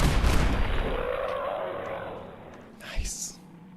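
Nail guns fire in the Sim Settlements 2 game: a loud opening volley of sharp bangs fades into a rumbling tail, then a single sharper crack near the end, with a voice talking over it.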